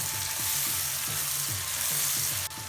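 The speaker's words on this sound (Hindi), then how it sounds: "अदरक लहसुन को मैंने 1 से 2 मिनट के लिए फ्राई कर लिया।" Steady oily sizzle of ginger-garlic paste frying in a hot pan, continuous crackle with faint stirring scrapes, close and fairly loud.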